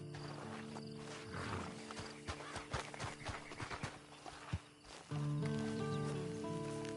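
Horse hooves clip-clop in a PS4 game beside a waiting horse, sharp irregular footfalls over a steady tonal music bed, followed by a swelling held note near the end.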